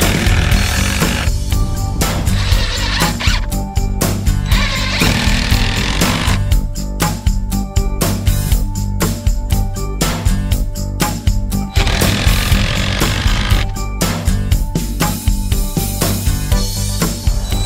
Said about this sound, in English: Drill here.